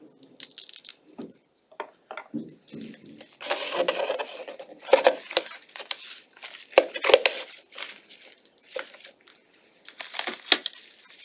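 Flower stems for a Valentine's bouquet are trimmed and sliced up close, a run of irregular crisp cuts, rubs and scrapes with short pauses between strokes.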